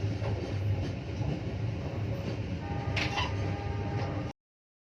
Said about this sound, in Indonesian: kereta api Sri Tanjung diberangkatkan kembali dari stasiun Waru